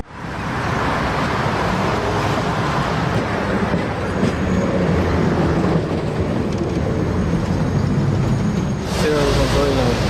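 A tram in Russia pulls into a stop at rush hour, its loud, continuous rumble and rail noise filling the street alongside traffic, with a brief clatter of wheels toward the end.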